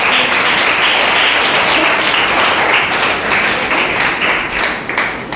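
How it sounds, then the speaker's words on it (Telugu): A church congregation claps together in loud, sustained, dense applause filling the room, steady throughout and easing slightly near the end. "చప్పట్లు కొట్టండి అందరూ"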